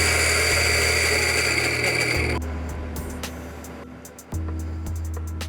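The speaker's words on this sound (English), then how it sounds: "So now that I've ground my coffee," An electric coffee grinder grinds beans with a loud, steady whir close by, the motor tone dropping as the beans run through and briefly surging again near the end.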